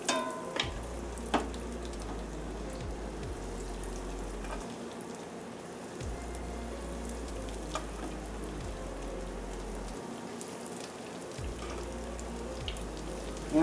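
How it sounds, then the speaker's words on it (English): Eggplant fries in oil in a pan with a steady, soft crackling sizzle throughout, quiet and close, broken by a few low clunks and stirring sounds and no speech. "So let's go ahead and get our eggplant fried."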